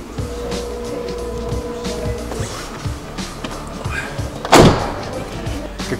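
Heavy thud of a new 2019 UAZ Patriot car door slamming shut, one sharp close impact near the end, preceded by softer clunks and rustling in the cabin.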